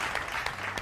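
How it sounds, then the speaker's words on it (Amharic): Brief applause from a studio audience at a children's quiz show, a quiet patter of clapping hands over a low background murmur. "ሞቅ ያለ ጭብጨባ እንዲደርሰው አጨብጭብ እንጂ አብሮ እንዲደርሰው"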